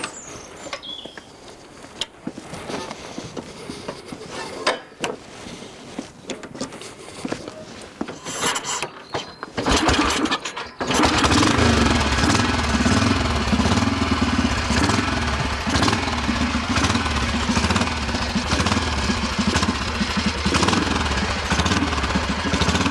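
A BSA Catalina Gold Star DB34 600cc single-cylinder motorcycle is kicked over with scattered mechanical clatter, then fires and settles into a loud, steady, thumping run close by.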